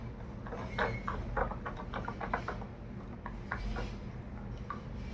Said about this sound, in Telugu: ఇక్కడ దీన్ని కలుపుతున్నాం